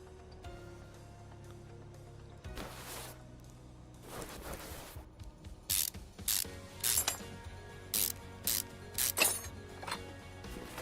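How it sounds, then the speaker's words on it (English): Brake pads are taken off with a ratchet in Car Mechanic Simulator, giving a run of quick, sharp ratchet clicks and clinks in bursts, each a short crisp burst of mechanical ticking in the foreground over a steady low hum. "What are we taking off? Brake pads."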